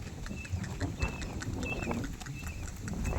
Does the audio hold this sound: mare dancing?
yes